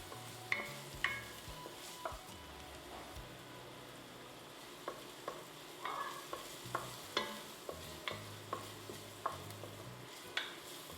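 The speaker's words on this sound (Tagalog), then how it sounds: "Gigisahin lang natin ito hanggang sa lumambot yung ating sibuyas." Garlic and chopped onion sauté in a pan for a Filipino vegetable soup, giving a soft, steady sizzle broken by repeated spoon scrapes and clinks as the pan is stirred, close and fairly quiet.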